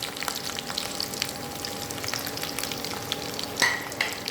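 Green and red capsicum fry lightly in oil in a wok, giving a soft, steady close sizzle with occasional crackles and a brief louder pop near the end, no voices.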